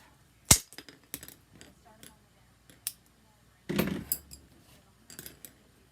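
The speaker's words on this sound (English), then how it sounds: "We're just going to go ahead and cut it in half" A paper centerpiece is cut in half, heard as a quiet series of sharp, irregular snips and clicks, with soft handling rustles between them.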